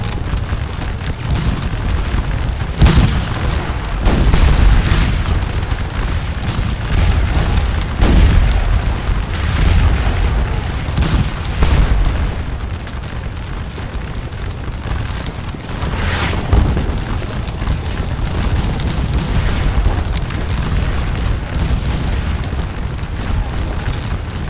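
Cannon and artillery fire on a Waterloo battlefield in Scourge of War: Waterloo, deep rumbling booms repeating irregularly over a continuous low battle roar, loud and dense for the whole stretch.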